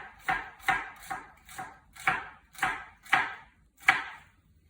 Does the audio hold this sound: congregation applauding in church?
no